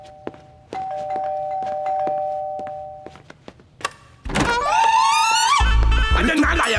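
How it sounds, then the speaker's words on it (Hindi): A doorbell in a Hindi comedy film rings repeatedly, a run of sharp separate chimes with short gaps, followed by a loud burst of music and a voice wailing. "तेरा बाप बाहर खड़ा रहकर घंटी पे घंटी बजाते जा रहा है"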